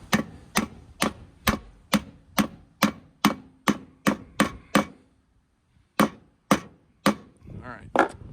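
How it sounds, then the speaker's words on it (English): Nails are hammered in to tack a fascia onto a wooden bird box, with a steady run of about a dozen sharp, close hammer blows, a short pause, then a few more strikes, and a brief voice near the end. "Just kind of finish getting this tacked in."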